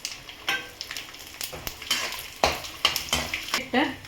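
Two Byadagi chillies go into a hot tempering pan, with light sizzling alongside repeated stirring scrapes and clinks of a utensil against the pan, fairly quiet and with no talk.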